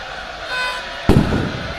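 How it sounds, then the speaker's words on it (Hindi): A single firecracker bursts with a sharp, loud bang at an outdoor cricket match, standing out over steady crowd and commentary noise, then fading into the background hubbub. "पटाखे यहाँ फोड़े जा रहे हैं।"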